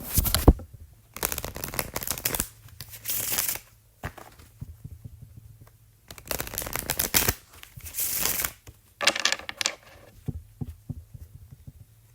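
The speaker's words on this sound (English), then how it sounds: "And I'm going to shuffle the cards." Tarot cards are shuffled by hand in several separate bursts, each a crisp, close riffling flutter that runs for about a second, with short quiet gaps between bursts and no speech.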